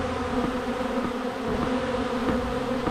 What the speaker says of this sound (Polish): 10 tysięcy pszczół, 5 tysięcy pszczół.